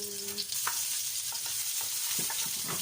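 Potatoes fry in hot cooking oil with a steady, loud sizzle, while a utensil stirs and scrapes the pan in a few short knocks on top of the continuous crackle.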